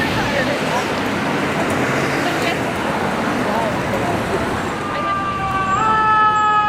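A fire engine's siren on a New York road, a loud wailing tone that rises and falls, with a warbling pattern near the end, over heavy traffic noise and a rushing vehicle roar.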